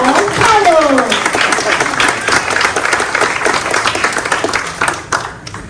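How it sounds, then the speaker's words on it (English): Crowd applause at a spring graduation ceremony, a loud, sustained roll of many hands welcoming a pastor to the stage, with a voice speaking briefly over the start and the clapping thinning toward the end. "give a round of applause for Mr. Pastor Charles Campbell"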